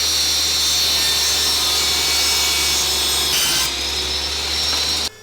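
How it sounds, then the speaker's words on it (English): A table saw rips oak boards to final size, a steady loud broadband whine of blade through wood that runs continuously and shifts slightly near the end before cutting off abruptly. "Then I can run all of the boards through the table saw to get them to the final size."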